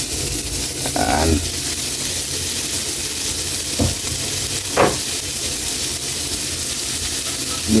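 Garlic, onion and tomato sauté in hot oil for adobong kangkong, giving a loud, continuous close sizzle with a few brief utensil scrapes and clinks as the ingredients are stirred in the pan.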